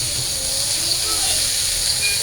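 Leafy greens dropped into hot oil with fried onions and chilies make a broad, steady hissing sizzle that runs evenly and fairly loud throughout, close, with no distinct voices.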